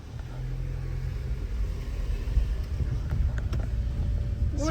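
A rebuilt Nissan car engine runs with a steady low rumble throughout, wind buffeting the microphone, and a few faint higher squeaks near the end.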